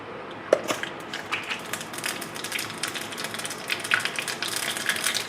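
Mustard seeds crackle and pop in hot coconut oil with a pinch of fenugreek, a dense, steady spatter of small sharp pops over a soft sizzle, close and fairly quiet, with no voices.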